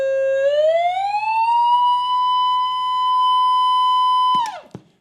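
A pure test tone sweeping upward and settling at 1,000 hertz, loud and steady for several seconds before cutting off abruptly with a brief click.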